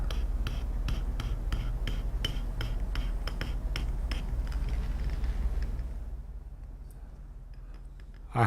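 A blade drags through leather along a straight edge in a quick run of regular, close scratching strokes that fade into near-quiet after about six seconds.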